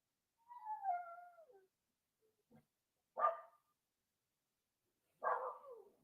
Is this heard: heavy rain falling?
no